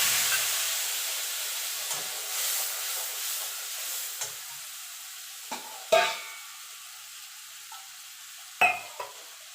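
Ground spice paste added to hot oil with whole garam masala for a vegetarian doi potol curry, hissing loudly at first and fading gradually, with a few sharp spoon clinks against the pan.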